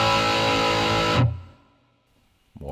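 A heavily distorted electric guitar chord played through a real amp, with Boss reverb, rings out dense and loud for about a second, cuts off into a short fading tail and silence, then a new note starts.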